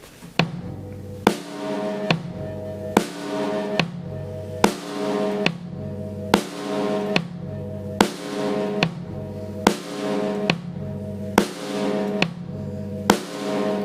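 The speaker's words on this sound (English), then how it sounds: "We're going to put the bass drum on beats 1 and 3 and the snare drum on beats 2 and 4." A steady, unaccompanied basic rock beat alternates a deep bass drum thump on beats 1 and 3 with a sharp snare crack on 2 and 4 at an even, moderate tempo, repeating for many bars.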